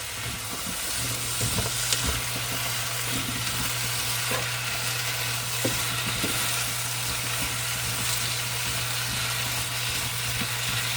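Cinnamon apples cooking in a pan, giving a dense, steady sizzle over a low constant hum, with a few faint pops and clicks throughout; close and unbroken, no speech.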